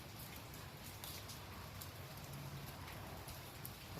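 Sunday morning rain falling steadily, a soft dense patter of drops on surfaces, faint and continuous with no voices.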